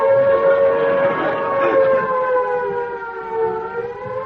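A civil defence air raid siren wails loudly and steadily on its own, its rising and falling tone sliding slowly downward as it drones on without pause.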